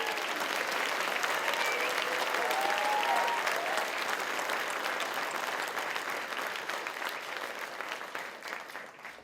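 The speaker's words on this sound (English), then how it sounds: "Let's give them one more round of applause" Audience applause for newly graduated Palm Beach County Fire Rescue firefighters of Recruit Class 57 at their graduation ceremony, a steady sustained round filling the room that slowly thins toward the end.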